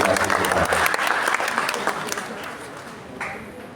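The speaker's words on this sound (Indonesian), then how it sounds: "Tepuk tangan sekali lagi untuk Bapak Menteri Transmigrasi kita." An audience at a briefing for transmigrants applauds Indonesia's Minister of Transmigration with a loud, dense burst of clapping that gradually thins and fades over a few seconds, with some voices mixed in.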